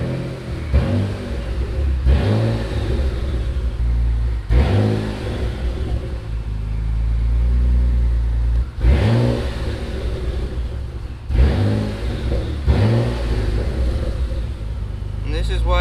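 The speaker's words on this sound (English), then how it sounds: "I got some of the rev now" A Mitsubishi 3000GT VR4 engine running on an AEM standalone ECU revs repeatedly in loud, close bursts that rise and fall over a rough idle, with talk heard between some of the revs.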